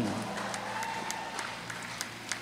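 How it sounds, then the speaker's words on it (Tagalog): Congregation clapping during a Catholic charismatic healing service, a soft, distant, sustained patter of many hands with occasional sharper claps standing out. "Ang palakpak nyo naririnig ng Panginoon."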